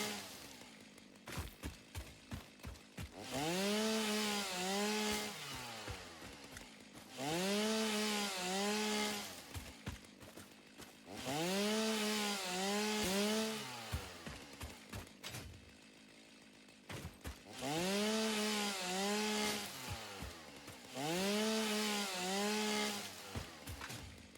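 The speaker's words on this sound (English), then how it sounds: "got the chainsaw out" Chainsaw in the video game Satisfactory revving and cutting in five loud bursts with pitch sweeps, separated by brief idling gaps, with no talking.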